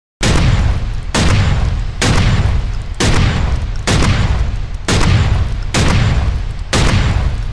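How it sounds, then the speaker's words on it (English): Gunshot sound effect: eight loud, booming shots fire at a steady pace, about one per second, with nothing else heard. "Watch where you're shooting, Sam!"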